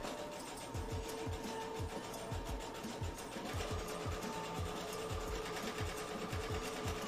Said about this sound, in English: So we're not sewing through the tape at all. I'm just using it as a guideline.